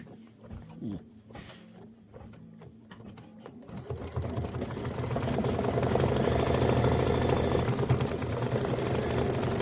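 A sewing machine runs while finishing the last small quilt blocks, first in a few short stops and taps, then settling into a steady, continuous hum that grows louder and holds near the end.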